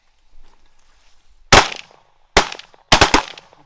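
Shotgun blasts at mallard ducks on a rainy late-September day, fired from a hilltop: three loud, close booms, the last two in quick succession, after a quiet stretch of faint rustling.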